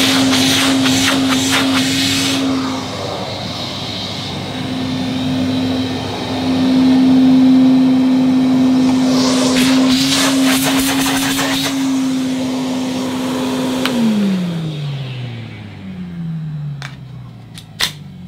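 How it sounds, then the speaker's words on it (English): A vintage Hoover 419 cylinder vacuum cleaner's motor hums steadily at a constant pitch with broadband whooshing, then winds down with a falling tone as it switches off. "we can plug in this Hoover cylinder"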